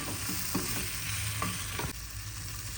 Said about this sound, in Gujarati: મીઠા સાથે થોડીક વાર શેકી લેવાનું છે